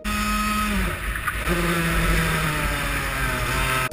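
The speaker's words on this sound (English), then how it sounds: "Have a listen to this braking for a rookie" A racing kart engine howls close by at a university championship race, its pitch dropping sharply under hard braking and then rising again as it pulls away.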